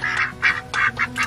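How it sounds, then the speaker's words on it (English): Several ducks quack in short, loud bursts, five or so calls spaced irregularly close by. "Thank you for not killing my ducks."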